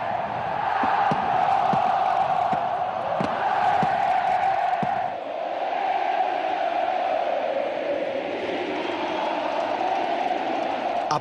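A packed football stadium roars during a Copa Libertadores semifinal run, a loud, sustained crowd cheer that holds steady throughout. Sharp claps or bangs are scattered through the first half, and the sound thins slightly into a broad, distant roar.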